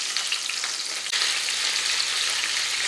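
Country fried steak frying in a pan, a steady, close bright sizzle and crackle of hot oil that swells slightly louder partway through, with no voices.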